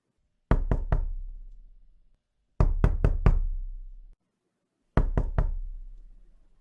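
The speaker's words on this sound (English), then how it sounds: "Do I hear a knock at the door?" Three separate bursts of knocking on a door, each a quick cluster of three or four sharp raps with a short ringing decay, spaced evenly apart and heard clearly on their own in a Christmas radio play.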